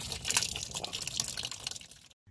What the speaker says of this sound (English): more fluid on the floor. So that's from the expansion tank